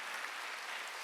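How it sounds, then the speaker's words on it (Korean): A church congregation at a Korean Wednesday worship service breaks into dense, even applause, a short burst of many hands clapping together that fills the room. "박수로 받아주세요"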